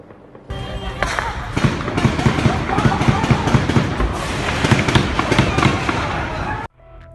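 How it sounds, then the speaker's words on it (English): Gunfire erupts during an armed clash between Mexican government forces and a cartel amid burning trucks: rapid, dense cracks and bursts pile on one another nearly nonstop, loud and close, before cutting off abruptly. "Gunshots crack through the air"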